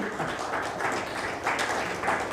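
Dense, steady applause from a large audience at an AI Premier League panel event, sustained and fairly loud throughout without pauses.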